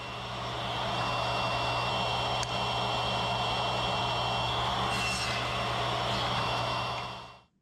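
A router bit cuts a black walnut picture frame piece held on a coping sled. The router whines with a steady high hum, and the cutting fills the clip before it spins down at the end.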